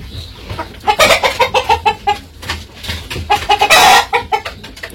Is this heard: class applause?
no